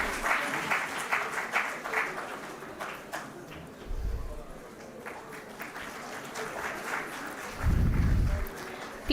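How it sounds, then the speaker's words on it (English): An audience at a law school convocation ceremony claps in a steady crowd applause, fairly loud and continuous, with thumps and low rumbles mixed in. "Applause, please."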